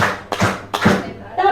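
A group claps a short rhythmic pattern in unison, with a few sharp hand claps spaced across a brief moment and a voice calling out between them.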